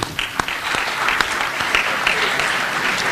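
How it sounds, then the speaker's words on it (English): An audience at a Senate simulation event gives a sustained round of applause, many hands clapping in a full, even roar with a few sharper individual claps standing out near the start. "I just wanted to give you all a round of applause for your work"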